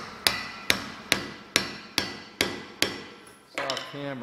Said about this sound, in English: I'm just gonna tap this in a little bit